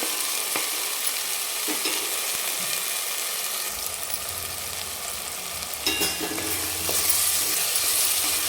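Tomatoes and salt sauté in a pan for dry mutton, a continuous close sizzle with scraping stirs, the frying growing fuller partway through as more goes in.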